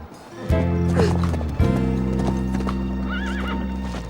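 A racehorse whinnies loudly and close while hooves clip-clop in a steady rhythm on a hard surface, with a long, wavering neigh rising above the hoofbeats.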